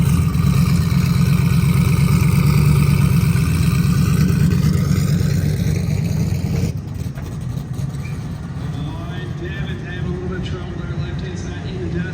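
Drag race car idling on the way to the staging lanes, a loud, steady low rumble with a slight shift in tone partway through, heard up close under ongoing talk.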